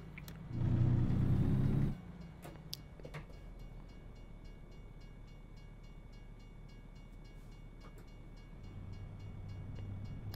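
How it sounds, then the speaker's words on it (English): Slow freight train in American Truck Simulator: a loud low rumble swells in the opening two seconds, then fades to a quieter steady background hum with faint clatter for the rest. "Oh my goodness, that train is moving slowly."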